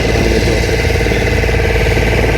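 A steady, loud motorboat engine drones without pause on choppy sea, a low throbbing motor running continuously with no voices.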